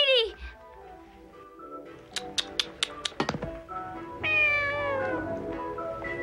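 A cat meows repeatedly in a drama scene, with a mewing cry at the start and a longer, louder meow near the end, mixed with sharp tapping clicks in between.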